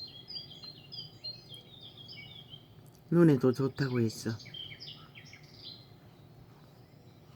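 Forest birdsong with a soft water backdrop playing from a tablet, faint repeated chirps and tweets over a low hiss, briefly interrupted by a person speaking nearby.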